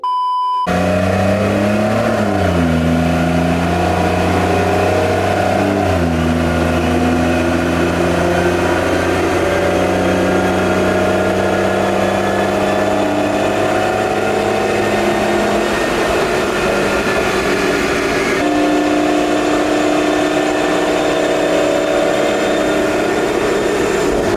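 A stage 2+ BMW 340i with a B58 engine on E50 fuel runs on a dyno, its loud exhaust note climbing steadily in pitch through a long full-throttle pull with shifts between gears.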